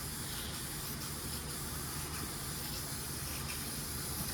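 A spray gun lays gray primer onto a fire-damaged hot rod body panel in a steady, close, continuous hiss with only faint pulses.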